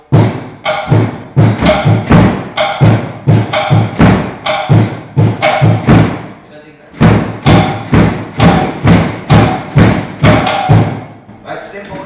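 Recycled cans and waste materials are drummed as a makeshift drum kit, producing loud, sharp, rapid thuds and clanks in a driving rhythm that pauses briefly midway before resuming.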